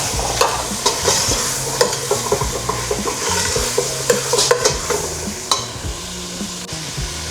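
Beef and carrots being stir-fried in a pan: a steady sizzle with repeated scraping and clacking strokes as the mix is tossed, close and continuous with no talking.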